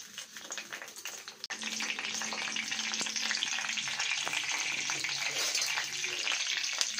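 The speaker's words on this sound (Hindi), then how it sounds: "मैं पहले थोड़ा सा तड़का बना लेती हूँ तो बहुत अच्छा फ्लेवर आता है उसमें।" Mustard seeds and curry leaves sizzle steadily in hot oil in a pan as a tadka, with a continuous bright frying hiss after a brief clatter near the start.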